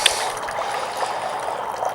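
Second-runnings wort trickles during home beer brewing, a close, continuous splashy stream with faint metallic clicks and no talking.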